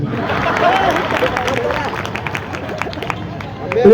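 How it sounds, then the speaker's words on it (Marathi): An audience at a Bhima Koregaon Shaurya Din gathering in Wardha applauds the speaker, steady dense clapping with crowd hubbub that thins slightly before swelling again at the end. "आणि आता एकदा टाळ्या होत्या माझ्यासाठी."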